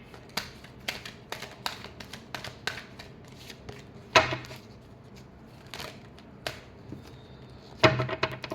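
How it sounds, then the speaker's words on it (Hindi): A deck of cards is shuffled repeatedly, with quick flicking riffles and sharp snapping bursts in an uneven rhythm, close and fairly loud, with no talking. "Last shuffle."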